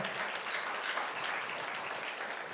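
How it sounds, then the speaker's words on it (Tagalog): Sustained clapping from a church congregation filling the room evenly, a steady wash of applause with no pauses or talk. "Yung the best na palakpak sa Panginoon."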